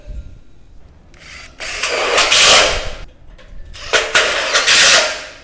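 A power tool drives screws into the front frame uprights of an Absco Bushranger shed, two loud bursts of whirring and grinding separated by a brief pause.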